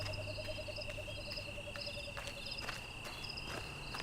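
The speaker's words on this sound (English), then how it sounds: "crickets are loud in real life, but this should be like a pleasant experience" Crickets chirp steadily in a nighttime scene from the video game Road 96, their rapid high trills pulsing over a constant insect drone, with a low croaking frog-like call repeating early on; loud, dense and non-positional.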